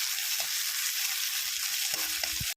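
Ginger garlic paste fries in hot oil for paneer manchurian, giving a steady close sizzle with a few faint scrapes and taps of stirring near the end.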